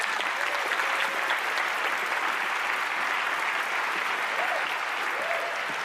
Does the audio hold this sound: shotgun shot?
no